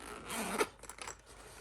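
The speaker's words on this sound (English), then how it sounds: "very sturdy zipper. Nice, big, chunky zipper." A big, chunky, sturdy zipper on an art toolkit case is pulled open in one close, rasping stroke lasting about a second.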